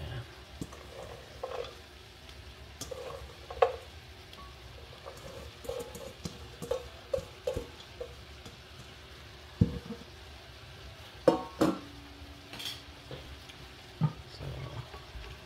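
Vegetables with carrots get stirred in a pan, giving a soft, ongoing sizzle broken by scattered scrapes and clinks of the utensil against the pan, faint and close.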